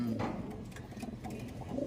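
Soft, low cooing from pigeons or doves repeats steadily over a constant background murmur, moderately close.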